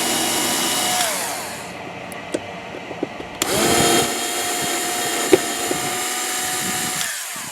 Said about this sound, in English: Let me get these screws out of here.